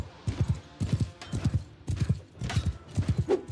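Video game horse hooves clip-clop in rapid repeated bursts of galloping during a mounted duel, with a brief whinny near the end; loud and close, no talking.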